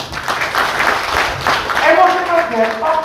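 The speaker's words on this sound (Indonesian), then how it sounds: "Terima kasih, tepuk tangan." Applause from a crowd with talking on top of it, the clapping partly masked by the voices.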